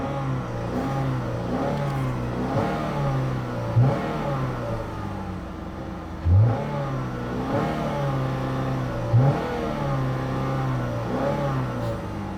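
A 2014 Buick Verano engine runs at idle, steady and close, with several short revs rising and falling at intervals over the hum.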